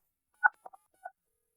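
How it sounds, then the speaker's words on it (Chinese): Telephone keypad dialing tones, four short beeps in an uneven rhythm, the first loudest, clear and isolated against silence. "放心，我马上给师兄打电话。"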